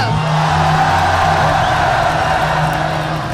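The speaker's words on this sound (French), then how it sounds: "On applaudit Skyrose!" A crowd cheering and applauding for team Skyrose at the start of a live gaming match between YouTuber teams, a steady, dense wash of noise that holds at full loudness throughout with no pauses.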